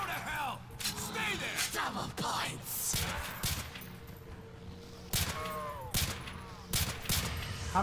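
Gunfire in a modded Nazi Zombies video game: irregular bursts of shots at zombies, spaced between clicking and mechanical game effects and bellowing creature sounds, moderately loud and without talk.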